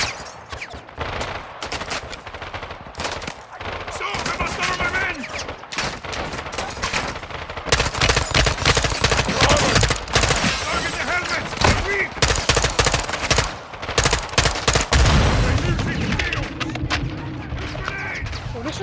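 Sustained gunfire from Call of Duty Modern Warfare, rapid automatic bursts and scattered shots rattling continuously for nearly twenty seconds, growing denser and louder midway, with voices briefly heard underneath.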